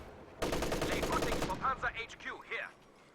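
Machine gun fire in Company of Heroes 2, a rapid, loud burst of shots lasting about a second, followed by softer battle noises and effects fading out.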